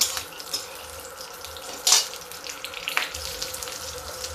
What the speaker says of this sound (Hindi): हल्का फ्राई करना है।